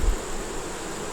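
Faint, steady buzzing of nurse honeybees crawling on the ground beside a hive, a brief low insect drone with no voices.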